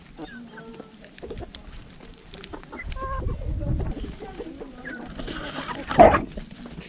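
Belgian hens pecking at fermented fries, with intermittent clucks and soft rooster-like calls at close range, brief rustling and one louder burst near the end, mixed with a voice talking.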